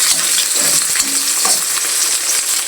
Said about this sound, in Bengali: আজকে এই যে দুপুরে রান্না করলা ভাজি, করলা আলু ভাজি।